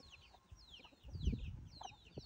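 Chickens cluck and murmur around a rural farmhouse, a busy flock heard at moderate distance with scattered clucks, a louder burst midway, and faint bird chirps over it.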